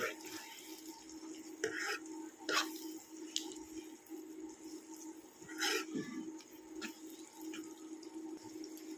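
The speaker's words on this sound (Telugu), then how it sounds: "ఇప్పుడు మూత ఓపెన్ చేసి కలపెట్టుకుందామండి దీన్ని" A spoon stirs egg bhurji in a pan just uncovered, giving soft wet squishing, scraping and a low simmering hiss, with a few louder clinks against the pan and no talking.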